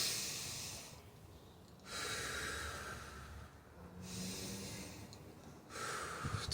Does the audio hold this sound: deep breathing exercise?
yes